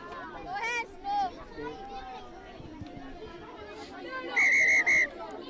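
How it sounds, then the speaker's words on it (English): A referee's whistle at a schools rugby league match, with several short blasts and a loud, sustained multi-blast burst near the end, over crowd chatter and commentary voices. "referee blowing the whistle quite rightly"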